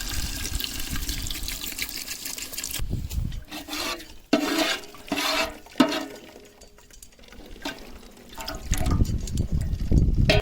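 About 1.5 litres of water is poured into a pot of egg biryani masala already seasoned with garam masala, giving an uneven rushing and splashing that swells and fades, close by and with no speech.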